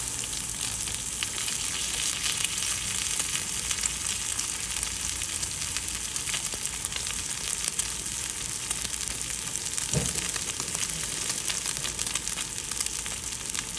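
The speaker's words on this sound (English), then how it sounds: "So you're going to seal the meat all the sides." Pork sirloin searing in a hot pan, a loud, steady sizzle and frying hiss throughout, close, with a brief clatter partway.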